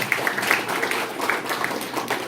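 Brief scattered clapping from a small audience at a Brahma Kumaris stress management talk, soft and moderately distant, a few irregular claps rather than full applause.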